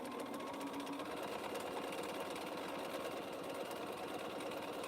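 A sewing machine stitches a quilt in one steady, continuous mechanical whir, close and even throughout, with no voices.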